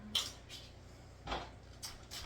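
A utensil stirring chicken stew with dumplings in a pot, giving a few soft, close scrapes and clinks spaced apart over a low background hum.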